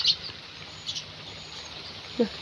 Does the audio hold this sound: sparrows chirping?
yes